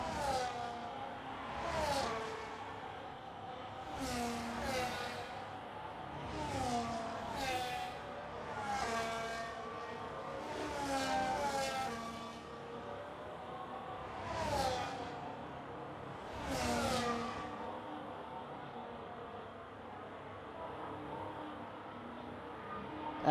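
Race cars in a Jeddah Grand Prix racing video game roar past one after another, each engine whine rising and fading in quick pass-bys every few seconds over a steady low hum.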